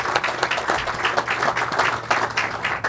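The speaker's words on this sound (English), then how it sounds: "Quick round of applause for that." An audience at a city groundbreaking ceremony in Pharr claps in a steady burst of applause, dense and continuous for a few seconds, with faint talk underneath.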